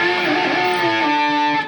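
A distorted electric guitar note swells upward with the whammy bar in a reverse dive bomb opening an intro, a single sustained tone held close and loud before cutting off.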